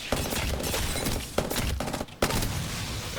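Rapid bursts of Prowler gunfire hip-fired in Apex Legends, close and loud, with short gaps between the volleys and a brief pause before the shooting resumes.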